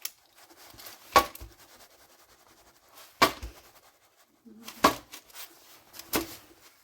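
A knife cutting through bread warmed in the oven, four distinct crunching strokes spaced a second or two apart, close and fairly loud over a quiet kitchen.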